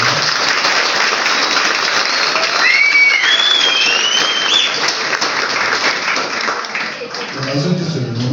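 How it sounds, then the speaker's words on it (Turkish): Steady, dense applause from a large crowd at an Ahilik Week celebration in Kırklareli, filling the whole stretch, with a few voices and whistles rising above the clapping. "Kocaman bir alkış istiyorum Mehmet abi."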